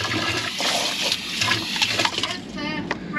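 A boat's front toilet flushing with salt water, a gurgling rush and slosh of seawater with pump-like pulses, moderately close, with faint voices in the background.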